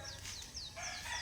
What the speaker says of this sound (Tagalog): Mingaw no kayo, manok og mga langgam na lang mabati na to.